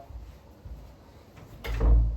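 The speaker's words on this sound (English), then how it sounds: "Let me close the door real quick." An indoor door is pushed shut in a room with the air conditioning running. A soft thud and rattle come near the end after quiet background hiss, close and moderately loud, with no talking.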